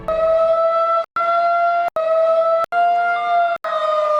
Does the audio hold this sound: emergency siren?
yes